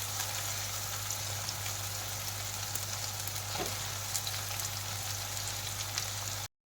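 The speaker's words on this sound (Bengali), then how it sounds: "তো আলুটা একদিকে ভাজা হচ্ছে" Cut potatoes frying on one side in a pan with tomatoes, giving a steady, soft sizzle with a fine crackling texture that holds evenly throughout and stops abruptly at the end.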